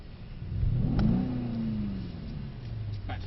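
A Mercedes C63s engine revving while drifting, the pitch climbing then holding and sagging as the throttle is worked, a sustained loud roar from inside the car with no voices.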